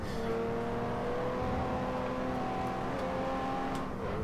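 A Lexus IS300 drifting in Forza Motorsport 4 during B-class racing, its engine droning at a steady high pitch throughout with no talk over it.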